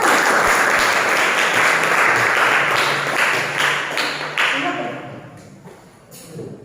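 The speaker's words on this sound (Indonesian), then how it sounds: "Tepuk tangan dulu untuk kelompok 1." Classroom applause for group 1 fills most of the clip, a dense steady clapping that thins and fades toward the end as a few voices come through.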